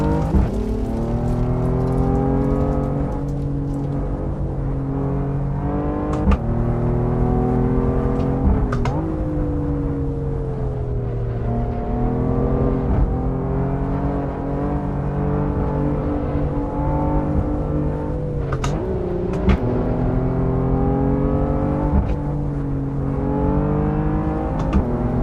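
Car engines droning and revving steadily while drifting in the racing game Assetto Corsa, a continuous loud tonal whine that rises and falls with occasional sharp clicks, no talking.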